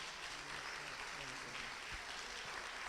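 Church congregation applauding during a healing and deliverance service, a steady wash of clapping from many hands with faint voices mixed in underneath.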